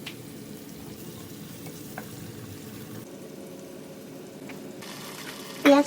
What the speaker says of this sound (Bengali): পেঁয়াজ কুচিটা দিয়ে দিলাম এবং এইটাকে আমি অনেকটুকু সময় নিয়ে ভাজতে থাকবো